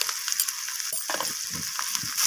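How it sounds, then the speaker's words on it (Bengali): Ginger-garlic paste sautéing with spices in a pan, a close hiss and sizzle broken by repeated scraping stirs of a spatula. "তো আদা রসুনটাকে আমি কষিয়ে নিচ্ছি সব কিছুর সাথে।"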